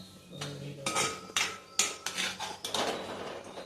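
Thick sesame ball mixture being stirred in a metal pan, with a spoon clanking and scraping in irregular, fairly loud strokes, close by and with no talk.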